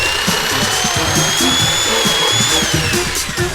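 Power saw cutting wood for street benches, a loud continuous whine with steady high tones that drift slightly, heard up close and alone without talk.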